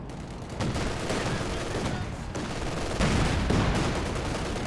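Dense, steady battlefield gunfire from the video game Company of Heroes 2: machine-gun bursts and heavier anti-tank gun shots roll together without a break, fairly loud and close, with no clear pauses.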